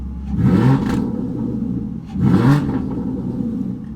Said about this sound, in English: So that is the sound of 12 cylinders in a V format.